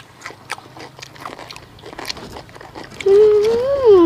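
A child crunches through crisp pork cracklings dipped in green chili relish, with repeated close, dry bites and chewing at an uneven pace; a louder tonal voice-like sound cuts in near the end.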